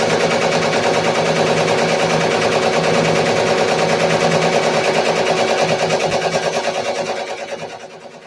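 A Ricoma MT 1501 embroidery machine stitches with a rapid, steady mechanical rattle up close, running continuously before slowing and fading away near the end.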